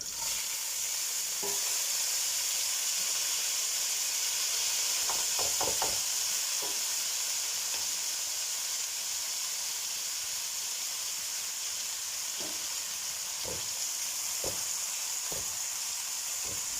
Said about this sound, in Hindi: मैंने डाल दिया है 1 टीस्पून के जितना ज़ीरा और हरी मिर्चें, और इनको मैं कुछ सेकंड्स के लिए फ्राई करूँगी